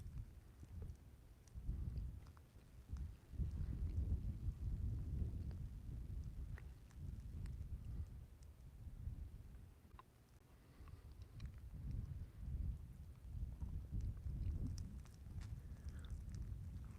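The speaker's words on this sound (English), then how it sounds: "It is still raining" Outdoor rain falls steadily at a distance, a soft, low, continuous wash with scattered faint drips and no voices.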